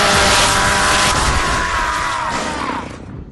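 A video-game chainsaw attack plays as a continuous loud, gritty roaring whir, holding steady for a few seconds before thinning and fading out, with no talk over it.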